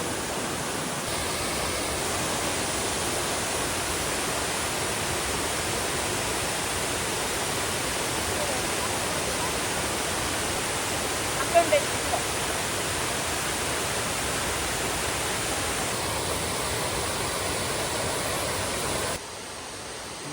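Thombattu Falls in Karnataka pours in a continuous, broad, hissing roar of falling water, loud and unbroken throughout, with no voices over it.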